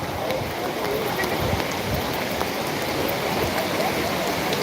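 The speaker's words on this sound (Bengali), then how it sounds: "বৃষ্টি আস্তে আস্তে কিন্তু বাড়ছে" Rain falling steadily at Belur Math during Ashtami Durga Puja, a dense continuous patter and hiss that holds evenly throughout without pause.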